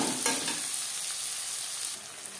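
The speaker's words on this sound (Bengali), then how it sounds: "পেঁয়াজ হালকা করে ভেজে নেব।" Chopped onions frying lightly in mustard oil for an aloo chicken curry, a steady close sizzle with some stirring scrapes near the start, the hiss easing slightly toward the end.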